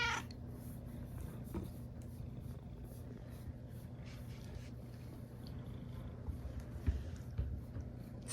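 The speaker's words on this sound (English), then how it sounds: "Oh, we got some purrs." A pet cat purrs softly at close range, a faint, steady low rumble in an otherwise quiet room.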